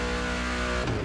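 Car engine in The Crew Motorfest racing game, a Ford Mustang Dark Horse, a sustained loud rev held briefly before dropping, in-game sound with no talk.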